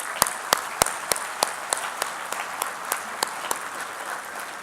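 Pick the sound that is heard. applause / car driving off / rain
applause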